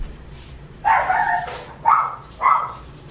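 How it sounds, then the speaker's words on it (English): A dog barks three times close by, a drawn-out bark followed by two shorter, evenly spaced ones over a quiet background. "Dogs are barking."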